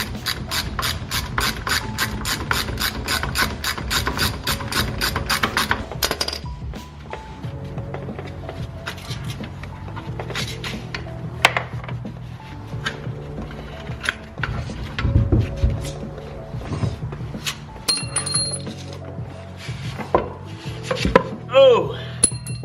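Ratcheting clicks, metallic turning and tool clatter from working drive shaft bolts loose under a 1968 Mustang Fastback during a Coyote swap, a steady fast ratchet run at first, then scattered close clanks and rattles.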